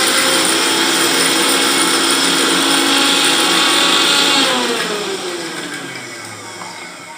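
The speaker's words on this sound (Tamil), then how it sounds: "மிக்சியில் ஒரு அடி அடித்து எடுத்து வச்சுக்கிறேன்" A kitchen mixer grinder pulverises fennel seeds, ginger, garlic and shallots, a loud, steady high-pitched motor whine that runs at full speed, then winds down as the blades slow.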